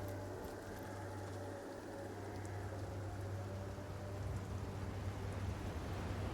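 Steady rain from the video game Divinity: Original Sin, a continuous hissing wash at even level throughout with a low steady hum beneath.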